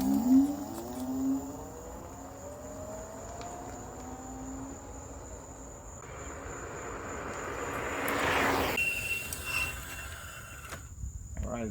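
A NANROBOT RS7 electric scooter runs in mode 3 on a single motor, its rising motor whine sweeping upward as it accelerates, mixed with steady wind and road noise that swells and fades.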